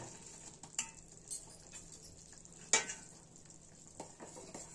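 Pakoras are stirred into simmering Punjabi kadhi in a pot, with soft scraping and a few distinct spoon clinks over a faint, steady bubbling sizzle.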